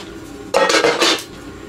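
A metal pot, modified to pour straight into a thermos, clanks loudly in a cluster of close metallic knocks lasting under a second amid snowmelt water pouring, in extreme frozen cold around -50°C; no voices.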